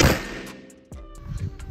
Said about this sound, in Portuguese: a gente vai dar mais um disparo que pegou meio baixo